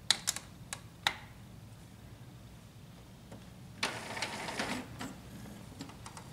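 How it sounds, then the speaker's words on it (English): An Epson EcoTank inkjet printer powering on, giving a few sharp clicks followed by a short whirring mechanical run of the carriage and rollers, fairly quiet and close. "Turn on the printer."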